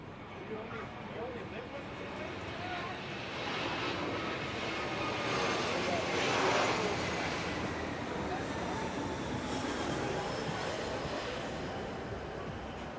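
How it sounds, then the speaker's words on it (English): A JetBlue passenger jet passes overhead near the San Diego waterfront on a summer evening, a broad steady roar that swells toward the middle and eases off, heard over city ambience with people talking nearby. "JetBlue just flew above me."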